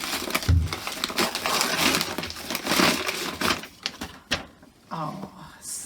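Close, fairly loud rustling and crinkling of brown paper wrapping as a parcel is opened by hand, in uneven bursts with brief pauses and a few sharper crackles.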